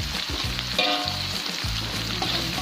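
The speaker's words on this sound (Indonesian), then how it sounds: "Pokoknya goreng semua bumbunya" Spices and salam leaves frying in oil for Sundanese nasi liwet, a loud continuous sizzle close up, with no talking.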